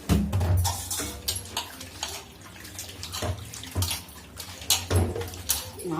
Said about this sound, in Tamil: இப்போ லைட்டாக தண்ணி ஊற்றி அலசிக்கிடுவோம்.